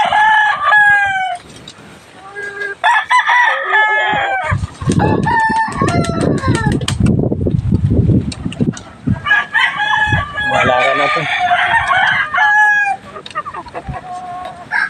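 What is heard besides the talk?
chickens clucking and rooster crowing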